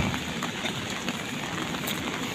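Steady rain pattering on a surface in Dubai, a continuous dense hiss with scattered drip accents, no voices.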